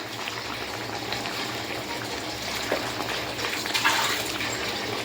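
Pieces of fish slide one by one into a hot cooking pan, giving a steady, close sizzle and bubbling hiss with no talk.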